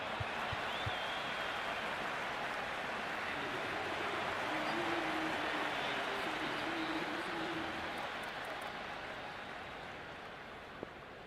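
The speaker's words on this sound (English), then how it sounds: "It's almost palpable, the excitement emanating from this crowd at the moment." Video-game stadium crowd in Cricket 26 during a T20 World Cup final, a steady dense roar of cheering and applause that holds for the whole stretch and eases slightly near the end.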